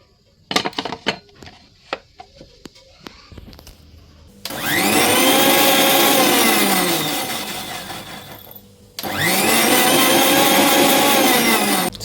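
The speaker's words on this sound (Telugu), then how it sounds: "దీన్ని ఇప్పుడు మనం మిక్సీలోకి వేసేసుకున్నాం." A mixer grinder whirls ingredients for mint rice in two loud, close bursts of high whining motor noise separated by a brief pause, after a stretch of clinking and clattering as the jar is loaded and closed.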